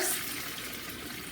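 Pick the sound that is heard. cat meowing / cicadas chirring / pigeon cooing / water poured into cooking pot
water poured into cooking pot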